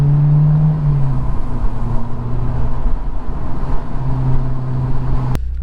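A 2000 Honda S2000 with nearly 90,000 miles drives along, its engine producing a loud, steady rumble and drone inside the cabin that shifts slightly in tone before a sharp click at the end.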